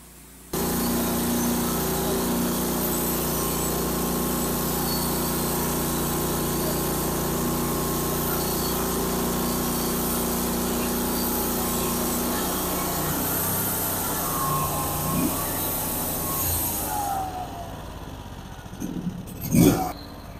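A Wood-Mizer LT30 sawmill band blade cuts through its first hardwood log, a loud steady mechanical whine and rumble sustained for about fifteen seconds before winding down, followed by a couple of brief clunks near the end.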